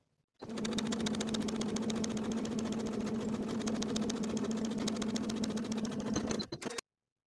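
A sewing machine edge stitches along finishing seams of a denim jacket, running steadily and close for about six seconds with a rapid, even mechanical chatter, then stopping.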